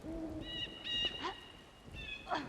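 Owl hoots echo through the ambient soundscape of the Tomb Raider Chronicles Gallows Tree level: a few separate tonal calls, some clear and some hazy, repeat across a low steady background bed with no talk.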